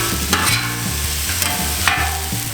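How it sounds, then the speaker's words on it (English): Onions and steak for a Philly cheesesteak stirred on a Camp Chef griddle, with a loud, close sizzle, a few sharp metal spatula scrapes and a low steady hum underneath. "Now we're gonna mix the onions all inside here."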